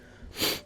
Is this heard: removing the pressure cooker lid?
no